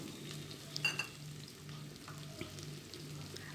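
Cashews fry in hot oil in a pan for vegetable biryani, giving a faint, steady sizzle close by with a few soft clinks of a stirring utensil.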